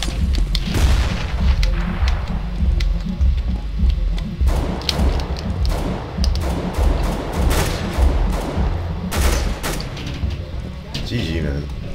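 Gunfire and heavy booms from a chaotic CS:GO match, including a grenade blast amid repeated sharp shots and rumbling impacts, loud and continuous, with a player talking over the action.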